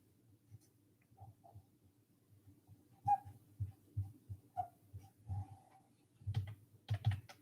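A marker or pen writes out an algebra problem on a nearby surface, quiet scratchy strokes in short irregular bursts with pauses between them and a denser flurry at the end.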